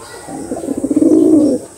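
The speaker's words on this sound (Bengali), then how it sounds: "খুব সুন্দর কোয়ালিটি পায়রা।" Madrasi pigeons in a loft in India give a single close, low rolling coo phrase lasting about a second, rising in strength and then fading out.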